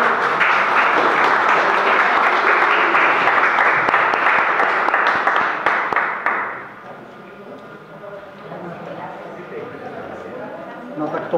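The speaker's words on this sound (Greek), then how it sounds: "Ήμουν αυτός που πήρε τζάμπα χειροκρότημα στην αρχή" Dense applause from the audience at an art exhibition opening fills the room for several seconds, then drops away to quieter room noise and scattered sounds.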